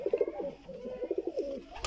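Teddy pigeons coo in a small breeding setup, a series of soft, throaty rolling coos close by, repeated over and over without talk, with a brief sharp noise at the very end.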